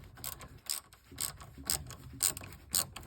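Ratchet wrench loosening an 8mm hose clamp under a 1995 Mustang GT, with six or seven crisp clicking pulls in steady rhythm, close and fairly quiet.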